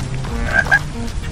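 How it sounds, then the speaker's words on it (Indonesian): A cartoon frog gives two quick, bright croaks in an animated rainy-day scene, short and close against a soft background. "Aku akan tangkap katak-katak ini."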